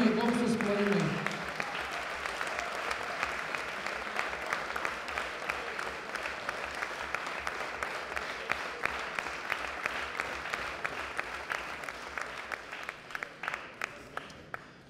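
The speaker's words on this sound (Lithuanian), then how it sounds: "Plojimai, gausūs plojimai." A concert audience applauds a university wind orchestra, starting with a brief spoken voice, then a long, even wave of many hands clapping that thins toward the end into sparser individual claps.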